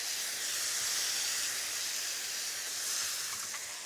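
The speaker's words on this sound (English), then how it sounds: "We've got a nice sizzle there, so it will reduce quite quickly." Mushrooms, black beans and black bean sauce sizzle in a hot pan for a stir fry, a steady bright hiss holding evenly close by throughout with no talking.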